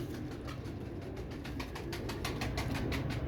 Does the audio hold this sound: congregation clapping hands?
no